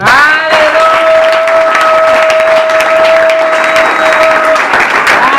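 A church congregation applauds loudly and continuously, with a long, sustained whistle or ringing tone running over the dense clapping for several seconds.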